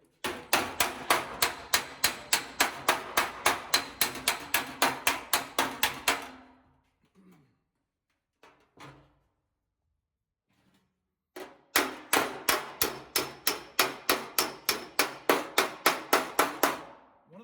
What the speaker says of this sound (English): when you're using a hammer and dolly